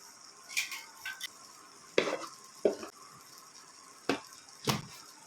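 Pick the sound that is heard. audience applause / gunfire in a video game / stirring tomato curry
stirring tomato curry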